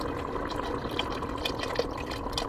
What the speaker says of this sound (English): I am ready to pour in my chicken broth.